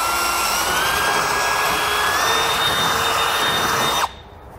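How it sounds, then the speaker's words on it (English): A steady high-pitched whine of a power drill boring through a plastic bumper, running continuously for about four seconds before abruptly stopping. "we can just drill it out with a bit that's a similar size to that fitting"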